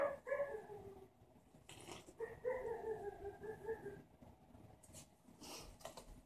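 A dog barks and whimpers in a few short bursts, fairly faint and somewhat distant, with quiet gaps between the calls and no talking over them.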